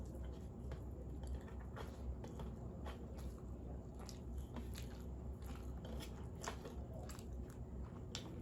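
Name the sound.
chewing rice with chorchori (spicy fish dish)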